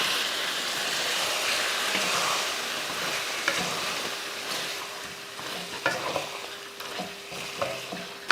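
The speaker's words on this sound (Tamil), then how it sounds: "தேங்காய் பால் ஊற்றி மறுபடியும் ஒரு 2 நிமிஷத்துக்கு இது போல் வதக்கி விட்டோன்னா" Chicken masala sautéing in a pan after coconut milk is added, a continuous close sizzle with stirring scrapes and a few sharper clicks of the spatula toward the end.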